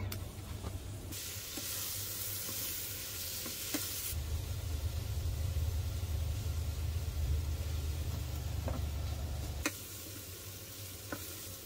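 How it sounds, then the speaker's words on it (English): Meat browning in olive oil in a pot on a van-life camp stove, a soft continuous sizzle with occasional scrapes and a low hum underneath, quieter at the start and end. "So now I'm going to brown this up a couple minutes per side with olive oil."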